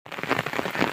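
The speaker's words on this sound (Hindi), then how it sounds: "भाई साहब क्या ही तेज वाली बारिश लग रही है," Heavy monsoon rain drums steadily and loudly on a handheld umbrella in a forest near a flowing river, a dense, continuous patter close overhead.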